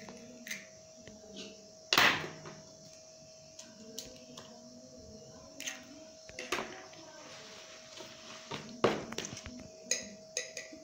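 Eggs being cracked into a bowl while making zucchini and potato fritters: several sharp, quiet taps and clinks spaced out over a faint, steady kitchen hum, with one louder crack near the start.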